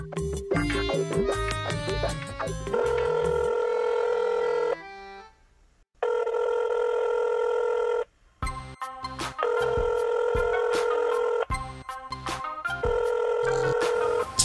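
A telephone rings in a Bengali drama scene, repeated electronic ring bursts with short silent gaps between them, loud and close, with no talking over it.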